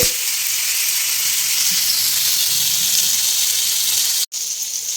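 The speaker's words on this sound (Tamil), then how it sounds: "இப்போ நம்ம வந்து தோசைக்கல்லில் வந்து மீனை போட்டு போட்டு பொறிச்சு எடுத்துடலாம்" Fish frying in oil on a dosa griddle gives a loud, steady, close sizzle throughout, with one brief dropout near the end.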